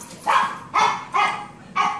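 A neighbor's dog barks outdoors next door, four evenly spaced, moderately loud barks at mid distance, heard alone without talking.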